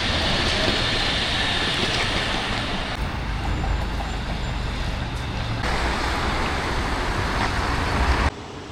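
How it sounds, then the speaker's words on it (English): Steady rumbling train noise with rolling wheels and a broad hiss, a continuous station din at the main central railway station in Wrocław, Poland, dropping off abruptly near the end. "there we have the main central railway station"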